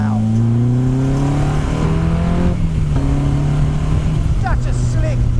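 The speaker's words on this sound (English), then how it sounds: "the best thing about it is the roar and bark of this engine" A Honda S2000 roadster's engine revs hard on a test drive, rising and falling in loud, continuous sweeps through the gears, with a sharp bark at the top of each pull.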